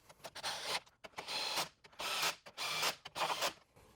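A 10mm socket ratchet runs down bolts on a Jeep JL battery relocation kit, making four quiet bursts of rapid clicking separated by short pauses.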